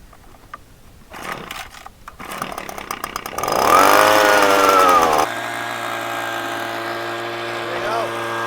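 A gold drywasher engine starts up and runs, building to a loud, steady mechanical roar as it blows out dust, with people talking nearby at first.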